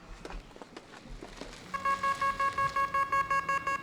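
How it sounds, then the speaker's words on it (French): A quick run of short, evenly spaced electronic car obstacle-detection warning beeps from 360-degree parking radar, loud and close, following some quiet clicks and shuffling. "elle envoie des bips sonores au conducteur grâce à des radars à 360 degrés"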